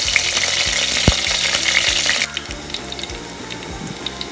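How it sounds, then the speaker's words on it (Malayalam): Garlic hits hot coconut oil in a clay pot with a loud, close hissing sizzle that drops abruptly partway through to a quieter crackle, with sharp scraping taps along the way. "അതിലേക്ക് ഗാർലിക് ഇട്ട് മൂപ്പിക്കാം."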